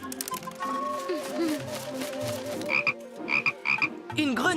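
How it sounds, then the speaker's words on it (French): Frog croaking in the Yakari animated cartoon, a series of loud, rhythmic croak bursts in the second half, mixed with voices and tonal music. "Une grenouille."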